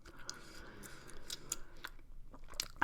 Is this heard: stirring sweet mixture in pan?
no